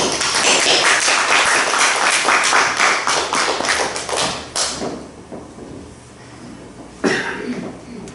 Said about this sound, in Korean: 우리 힘찬 박수로 우리 강 목사님 맞이하겠습니다.